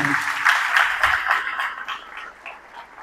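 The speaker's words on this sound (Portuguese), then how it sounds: "Vamos aplaudir o nome de Jesus." A church congregation at a Portuguese-language testimony service claps together, a dense mid-range patter of hands that swells early and then tapers off gradually over a few seconds.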